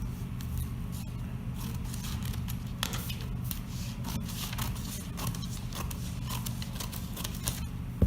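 Scissors cut through shirt fabric laid out for a men's collared shirt, a steady run of crisp snipping and blade scraping over several seconds, close and unaccompanied by talk.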